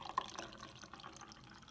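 Apple juice poured into a glass indoors, a soft trickling, dripping liquid sound that is quiet and close, with a small splash near the start and no speech.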